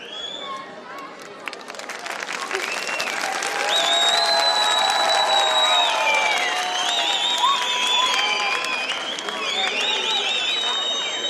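Audience applause and cheering at an outdoor village concert in Eskihisar, a steady wash of clapping with crowd noise and a high sustained musical or whistling tone over it, loud and continuous throughout.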